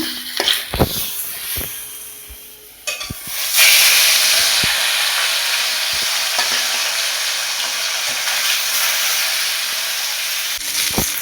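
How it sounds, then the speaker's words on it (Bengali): Tilapia drops into hot mustard oil in a pan after a few clinks and knocks, and a loud, continuous sizzle and hiss bursts up and carries on steadily. "তেলটা গরম হয়ে গেলে মাছটা ভেজে নেব"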